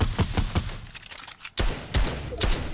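Unsuppressed gunfire in Fortnite, rapid bursts of loud shots with sharp repeated cracks, pausing briefly before several heavier blasts resume near the end.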